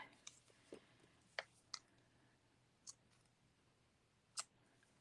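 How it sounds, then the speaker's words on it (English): Ribbon scissors make a few quiet, sharp snips, spaced irregularly with pauses between, close and faint in an otherwise hushed room during floral crafting. "Here's my ribbon scissors."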